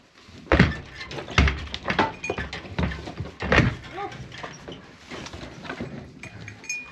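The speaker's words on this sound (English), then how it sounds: "gonna break the door down" A farm animal bangs against a wooden barn door, sending out a series of heavy, irregular thumps and knocks up close, with faint background sounds between the impacts.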